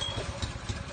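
A go-kart engine idles in a brief, fairly faint, steady putter with rhythmic low pulses and no talking.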